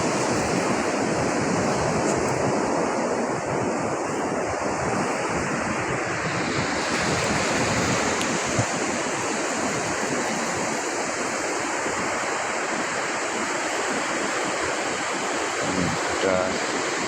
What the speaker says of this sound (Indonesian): Gelombangnya lagi sedang, tidak terlalu besar.